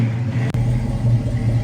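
A 1968 Ford Mustang coupe idles steadily nearby, a low, even engine rumble with a brief dip midway as it shifts into gear, no talking over it.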